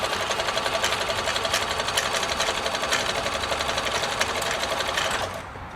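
A New Home Combi DX 502 sewing machine stitching a test swatch, a fast, even mechanical rattle with a rapid regular needle rhythm, close and loud, stopping abruptly near the end.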